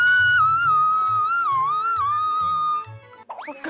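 A person whistles a steady, wavering melodic tone for nearly three seconds, loud and close, with a low rhythmic accompaniment underneath and a brief different sound at the end.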